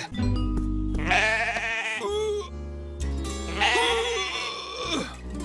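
A sheep bleats loudly twice in long, wavering cries, close by, with a short pause between them.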